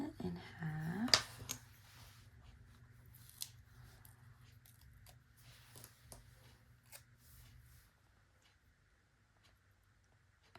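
Scissors snipping through paper to cut it in half, a few crisp close cuts early on followed by fainter rustling and small handling sounds that fade to near silence.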